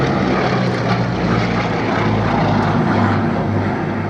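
A WWII propeller aircraft engine, a Blenheim, Spitfire or Hurricane, drones loudly and steadily at close range with no break.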